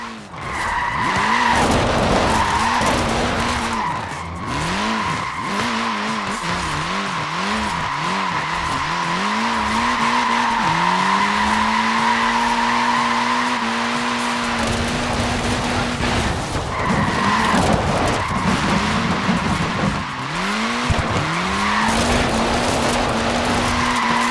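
A Mini in Forza Horizon 4 skids and squeals its tiny tyres over and over, engine revving and pitching up and down as it slides, loud and close and continuous throughout.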